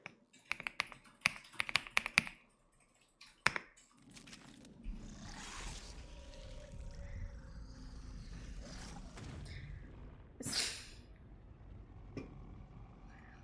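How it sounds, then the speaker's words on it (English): Crisp clicks of a computer keyboard being typed on, quick bursts of taps near the mic at first, then sparser keystrokes over a low background hum with a few louder knocks. "you guys get to hear the delicious keyboard"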